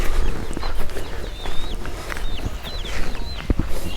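Local chickens roaming outside on a small poultry farm in Assam, with growing chicks among them: a busy flock of clucks and short squawks close by, over constant rustling and scratching background noise.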